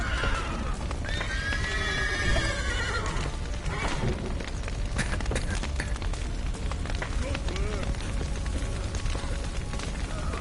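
Horses whinny loudly near the start in The Witcher 3: Wild Hunt, followed by hooves clattering and a busy, noisy background with occasional shouts and rumbling.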